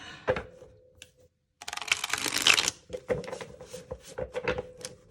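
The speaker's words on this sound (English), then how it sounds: "The sound of cards shuffling." A deck of tarot cards being shuffled by hand in several quick riffling bursts, close and crisp, with brief pauses between.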